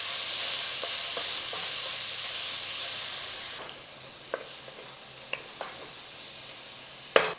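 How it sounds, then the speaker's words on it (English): Loud, steady sizzle of onions frying fills the first half, then drops to a quieter hiss with occasional clinks and scrapes from a utensil in the pan. "Nice little sizzle whizzle on there. In with those onions."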